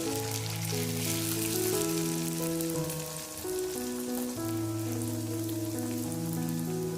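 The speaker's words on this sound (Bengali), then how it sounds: "তো এইভাবে আমি লুচিগুলো দেখো সব ভেজে নেব, কচুরিগুলো।" Pea-stuffed kachuri frying in hot oil in a kadai makes a continuous bubbling sizzle, close and steady, with soft background music playing throughout.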